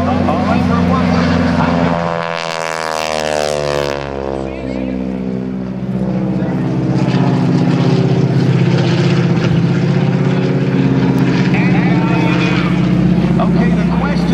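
An airshow propeller plane piloted by Bill Leff at the 2010 Blue Angels Homecoming drones loudly and steadily overhead, its pitch sweeping as it passes close while flying inverted.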